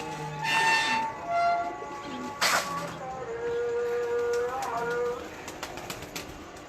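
Several breeder pigeons coo in a loft, soft rolling calls overlapping at close range, with a few chirps and faint voices in the background.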